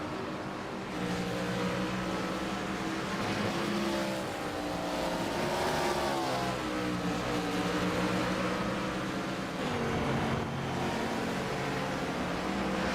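Gen 4 race cars in a sim racing game at Watkins Glen, several engines droning together in a steady, loud, continuous roar with shifting pitch, with no voices heard.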